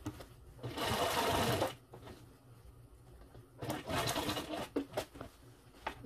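A sewing machine stitches a leatherette banquette box cushion in two long, steady runs of close whirring, separated by a quieter pause with light handling noises.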